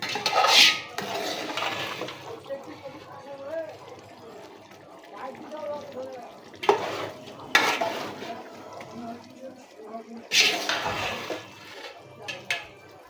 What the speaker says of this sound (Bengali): এখন ভালোভাবে একটু নাড়াচাড়া করে মিশিয়ে দিচ্ছি